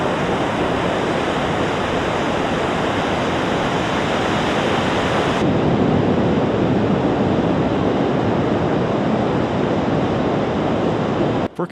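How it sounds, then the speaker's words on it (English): Loud, continuous ocean surf roaring steadily with broadband wash, no pauses, close to the microphone and heavily buffeted by wind. "Ocean waves such as these can be as loud as 100 to 120 decibels."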